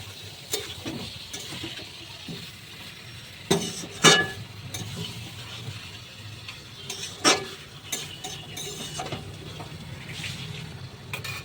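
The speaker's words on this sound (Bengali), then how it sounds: "অল্প করে একটু জল দিয়ে মশলাটা ভালো করে মিশিয়ে দেব।" Chicken kosha masala being stirred with a little water in a pan, soft sizzling throughout with intermittent sharp clinks and scrapes of a spoon against the metal.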